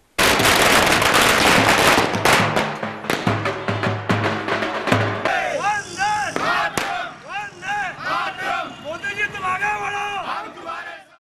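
A dense volley of firecrackers crackles and bangs loudly at a street celebration in Nanded, India, with drums; scattered sharp blasts and whistling rockets continue amid a noisy crowd.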